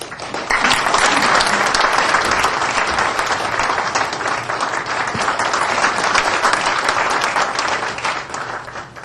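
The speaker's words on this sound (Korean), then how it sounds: "이 환영의 박수로 맞아주시기 바랍니다." Dense, steady applause from a lecture audience welcoming a guest speaker, rising within the first half second and holding strong for about nine seconds without pause.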